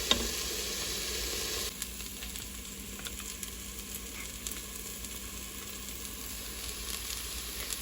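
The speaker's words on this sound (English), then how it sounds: "there's the vegetables together, and we're going to cook this until they're soft" Mixed vegetables sizzle steadily in a pan while cooking down for a Greek chicken and rice dish, a loud hiss at first that settles into a softer, continuous crackle with occasional stir clicks.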